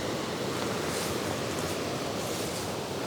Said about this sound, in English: with a waterfall here